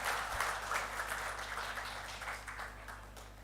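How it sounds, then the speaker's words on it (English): Round of audience applause at a national conclave on soil health, a steady wash of many hands clapping heard from a distance, fairly faint over a low electrical hum. "A big round of applause, ladies and gentlemen."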